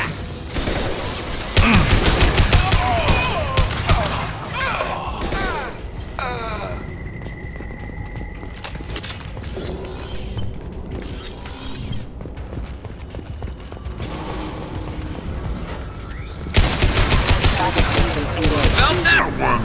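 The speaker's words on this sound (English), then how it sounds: "Open fire!" Gunfire in the video game Mass Effect 2, with loud bursts of rapid shots at the start and end and scattered sharp cracks between, under shouted voices and game effects.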